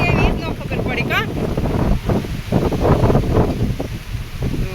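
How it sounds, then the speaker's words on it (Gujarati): Strong gusty wind with rain outdoors on a farm, roaring and buffeting continuously, with voices speaking under the noise. "આ પવન એટલો છે ને તે ઠંડી પણ લાગવા માંડી છે"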